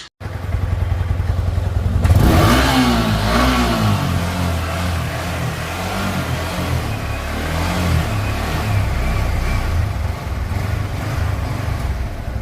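A superbike engine fires up after a brief idle hum, then revs loudly and settles into a throaty, uneven idle close by.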